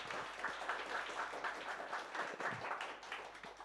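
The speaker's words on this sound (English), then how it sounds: "Please give a round of applause again for David." Lecture audience at a machine learning and climate change talk applauds a guest speaker, a fairly quiet, steady patter of many hands at moderate distance.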